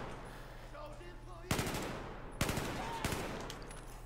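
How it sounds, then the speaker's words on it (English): Sharp bursts of automatic gunfire from a weapon in Battlefield 4, three distinct volleys cutting in over a quiet background hum, fairly close and punchy. "I really like the sound of this gun."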